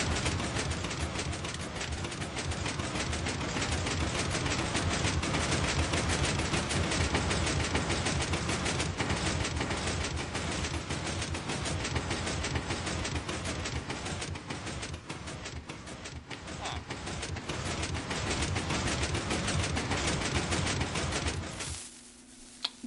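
A Minecraft slime block TNT missile fires in the game, producing a dense, continuous rattle of explosions and mechanical clatter that stays loud and unbroken for about twenty seconds before cutting off sharply.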